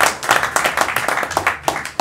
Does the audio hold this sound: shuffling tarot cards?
no